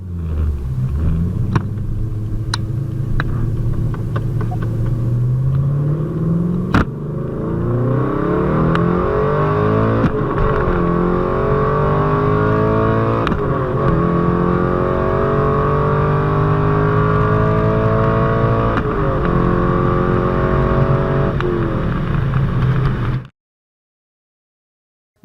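A cammed C5 Corvette engine roars loud and close, revving repeatedly as it accelerates; the pitch climbs through each pull and drops between them for about 23 seconds before cutting off abruptly.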